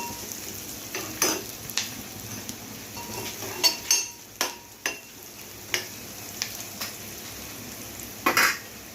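Spoon stirring turmeric into softened onions in a hot pan for a yellow potato bhaji, with a faint sizzle under repeated scraping and clinking strokes against the metal, steady and close, no talking.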